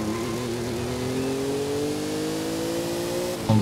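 Rossion Q1 engine under hard acceleration during a Forza Horizon 5 race, a loud steady drone with the pitch rising gradually, ending with a short thump.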